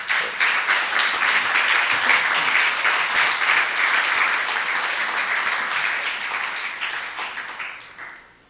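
A church congregation applauding during a sermon, loud dense clapping that rises quickly and holds strong for several seconds before fading out at the end.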